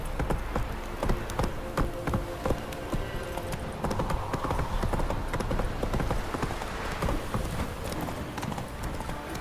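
The horse Roach gallops in The Witcher 3: a steady, rapid clip-clop of hooves runs throughout at close range, over a continuous bed of background ambience, with no voices.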